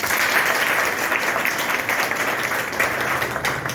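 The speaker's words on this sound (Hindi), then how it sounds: "इसके लिए जोरदार तालियां" An audience at a police exam coaching session claps loudly for a student who placed 12th in Madhya Pradesh, a continuous, dense burst of applause from many people, steady and close.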